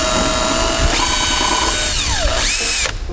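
A power drill bores a small hole into plastic trim on a Mazda Protege chin spoiler, a loud steady whine that climbs and falls in pitch as the bit bites and then stops abruptly.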